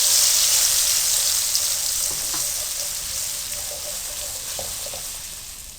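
Spice masala mixed with yogurt fries in a pan, a bright steady sizzle close by, with faint stirring knocks scattered through and no voices.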